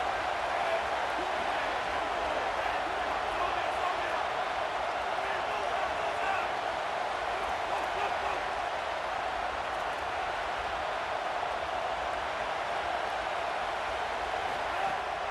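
Stadium crowd noise from the College Football 27 video game, a steady, dense roar that holds at full strength for the whole stretch with no pauses, with no clear commentary rising above it.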